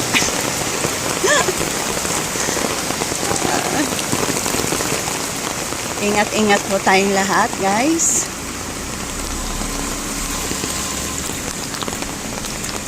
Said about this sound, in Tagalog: Walking sa gitna ng malakas na ulan.